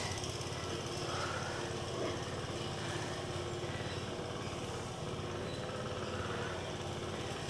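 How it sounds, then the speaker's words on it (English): A neighbor's lawn mower runs outside, a steady, continuous motor drone from start to finish, with a distant, even tone and no break. "if you hear the machine, it's my neighbor mowing the lawn"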